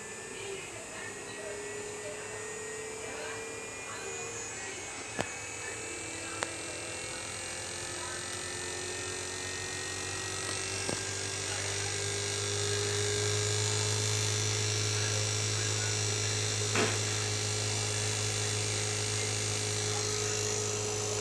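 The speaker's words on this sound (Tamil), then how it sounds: "ஃபேன் மோட்டர் ஆன் ஆகிடுச்சு." Air conditioner compressor and fan motor running steadily, a constant low mains-like hum with a whirring tone that grows slightly louder partway through, with a few faint clicks and no talk.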